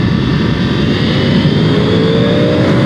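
Yamaha YZF R1 sport motorcycle engine pulling hard down the pit straight of a race circuit, a loud, continuous close-up roar with rising pitch as it accelerates.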